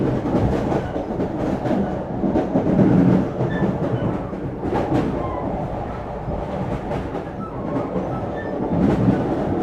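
Loud rumble and rhythmic clickety-clack of a train travelling between JFK Airport and Midtown Manhattan with the carriage door open, wheels and track noise close and continuous.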